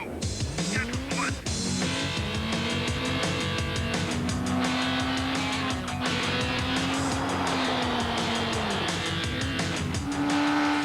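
Peugeot 206 WRC rally car in the Colin McRae Rally video game, loud continuous engine revving with rising and falling pitch through gear changes, tire noise and gravel spray throughout, no clear talking.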